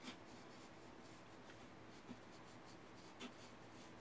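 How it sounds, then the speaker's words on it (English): A pencil shades across paper in steady rhythmic strokes, a soft, close, faint scratching and rubbing texture with a few slightly louder taps. "lay the pencil on the paper and start shading like this"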